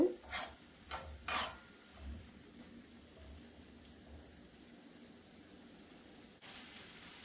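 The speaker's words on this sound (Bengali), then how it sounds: "নেড়ে ছেড়ে শাকের পানি ভালো করে শুকিয়ে নেব।" Spinach is stirred in a pan to cook off its water, with a few sharp scraping strokes at the start, then a soft, faint continuous sizzle and gentle rubbing, no talk.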